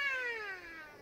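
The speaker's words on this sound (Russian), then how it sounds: "Мяу делает киса." A nursing cat meows once, a clear, drawn-out call that slides slowly downward in pitch, fairly close and moderately soft, with no talking over it.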